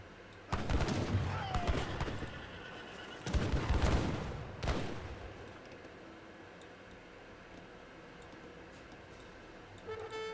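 Organ guns firing in an Age of Empires III battle, with three sharp crackling volleys in the first five seconds over a busy battlefield din, followed by quieter background clatter.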